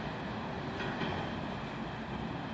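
Amtrak 50 passenger train departing Charlottesville, Virginia, a steady rumbling roll of railcars at moderate distance that swells slightly near the middle, with no voices.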